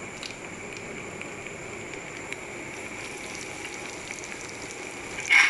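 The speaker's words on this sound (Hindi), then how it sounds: "सारे रोल हम फ्राई कर लेंगे" Chicken and rice rolls frying in a pan, a steady soft sizzle running throughout with a brief louder burst near the end, no voices.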